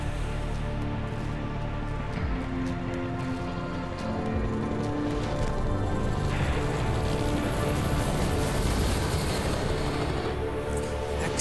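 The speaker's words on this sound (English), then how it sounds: "a chopper" A helicopter flies overhead at a weapons factory in the video game Hitman: Absolution, a loud, steady rumbling drone that swells slightly and continues throughout.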